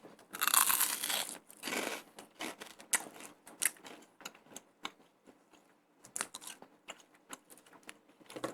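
Close, loud crunching and biting on vegan chicharon (vegcharon), a dense burst of crackling bites at first, then a run of sharper separate crunches and chewing snaps with brief pauses between them.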